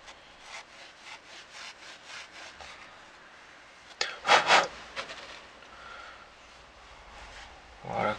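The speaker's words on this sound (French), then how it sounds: "Vous pouvez poncer un peu les vis." Small scooter exhaust screws rubbed with sandpaper during an exhaust renovation, giving repeated soft rasping strokes, quiet at first, then a louder burst of scraping midway and another at the end, with no talk.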